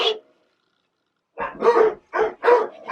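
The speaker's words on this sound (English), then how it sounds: "dogs are going off" Dogs bark nearby in short bursts: one sharp bark at the start, a pause, then a quick run of four or five loud barks close together.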